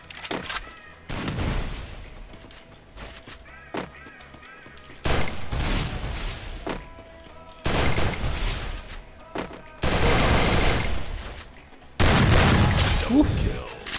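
Gunfire in the mobile battle game Free Fire, with several loud bursts of rapid shots and booms separated by short pauses, sometimes close and heavy, with faint talk beneath.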